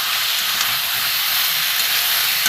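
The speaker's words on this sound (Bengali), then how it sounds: "আমি একটু ভালো করে কষিয়ে নেবো।" Spice masala with a spoonful of sugar sautés in a hot pan, making a loud, continuous hiss close up with no pauses or talking.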